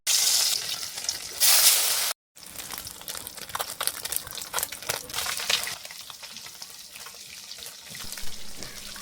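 Small puti fish frying in hot oil in a wok, giving a loud bubbling sizzle at first, then a brief gap, then steady crackling and spattering that continues to the end.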